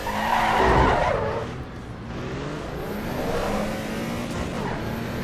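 A Porsche race car in Assetto Corsa EVO, its engine revving and accelerating up close with tires skidding and squealing, a continuous loud drive with a rising and falling pitch.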